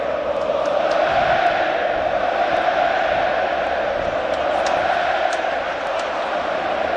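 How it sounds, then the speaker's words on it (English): Stadium crowd at a Barcelona vs Real Madrid football match, a continuous broad roar of thousands of fans swelling with cheers, heard from within the stands. "every pass, every move being cheered to the rafters here"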